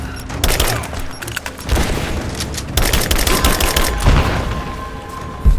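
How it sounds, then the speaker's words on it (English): Gunfire and explosions in the video game Rise of the Tomb Raider, with rapid bursts of shots and heavy booms crowding together loudly and continuously throughout. "Throw the grenade! Grenade out!"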